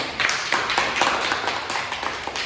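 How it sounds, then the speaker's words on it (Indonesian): A classroom of students applauds at the end of a chemistry lesson, a dense, steady patter of many hands clapping together, fairly close and continuous throughout with no talk. "Ibu sangat aplaus untuk hari ini"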